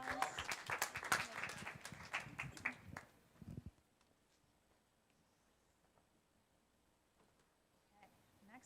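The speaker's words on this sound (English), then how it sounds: "Round of applause." An audience at an honors seminar's final project presentations claps for a few seconds, a brisk burst of clapping that drops off quickly, leaving a near-silent room with faint movement.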